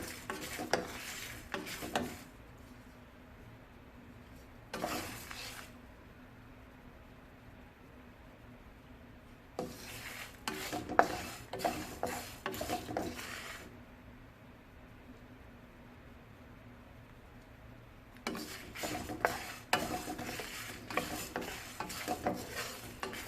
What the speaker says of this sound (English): So I can smell now dhania and red chili as well as cumin, as well as curry leaves roasting